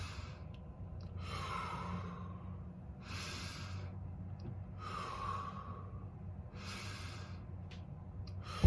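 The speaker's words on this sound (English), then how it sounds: "simply breathe in, breathe out. Do that 10 times." Slow, deep breathing in and out, four long airy breaths at an even pace, close and soft with quiet gaps between.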